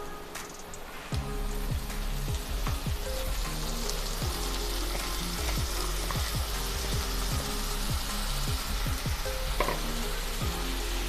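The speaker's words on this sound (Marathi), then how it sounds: "मेथी आपण कांद्याबरोबर 1 ते 2 मिनिटभर परतून घेणार आहोत" Fenugreek leaves sauté with golden-fried onion, garlic and green chilli in a pan, a steady close sizzle that jumps louder as the leaves go in, broken by repeated scraping stirs throughout.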